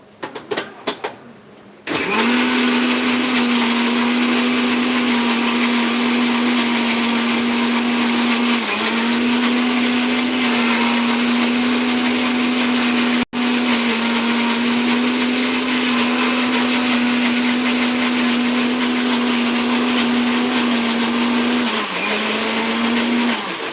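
Kitchen mixer grinder grinding coconut, a loud steady electric whine that starts after a brief clatter and runs continuously with slight dips in pitch, no talk.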